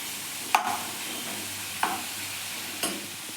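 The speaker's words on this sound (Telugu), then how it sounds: "ఆయిల్ మునిగని ముక్కలు మనం వేసుకొని దీన్ని ఫ్రై చేసుకోవాలి" Bitter gourd pieces fry in oil for a fry dish, a soft steady sizzle broken by three sharp spoon stirs spaced about a second apart.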